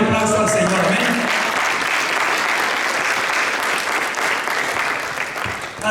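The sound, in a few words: congregation applause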